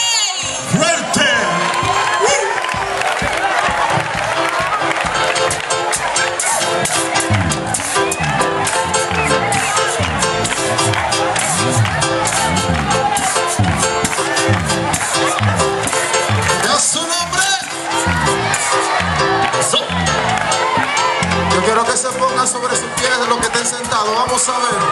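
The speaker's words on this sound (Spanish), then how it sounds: "¡Aplauso a los hijos del rey!" Congregation at an evangelical youth theatre night cheering, whooping and shouting in a loud, sustained crowd roar, with voices calling out throughout.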